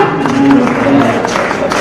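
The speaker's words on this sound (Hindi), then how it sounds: "तालियां" An audience at a public function with a state governor as chief guest breaks into applause: a dense, loud wash of clapping, with murmuring voices woven through it.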